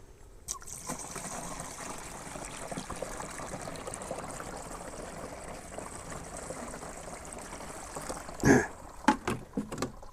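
Water trickles and splashes steadily into a container, a continuous pouring sound ending with a few louder sloshes and knocks.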